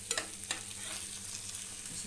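Fish frying in oil in a pan hisses steadily as it is flipped, with two quick utensil clicks near the start, then a continuous soft sizzle and no talk.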